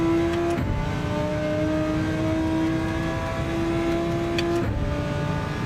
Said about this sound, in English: I'm having a run in the 2015 Audi.